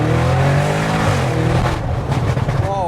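An Audi RS6 engine with hybrid turbos, tuned to about 820 bhp, roars loudly, its pitch climbing as it accelerates hard through the gears, with a voice partly audible over the noise.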